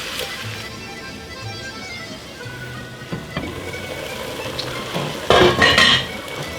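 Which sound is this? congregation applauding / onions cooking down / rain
onions cooking down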